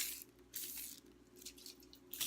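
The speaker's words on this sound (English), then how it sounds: "give these a little spray," Organic olive oil spray hissing onto cut potatoes in several short, soft bursts, close and quiet against a faint background hum.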